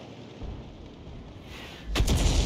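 A 105 leFH18 B2 howitzer fires once in the War Thunder tank game, a single loud, heavy boom cutting through a steady low rumble of engine and ambient battle noise.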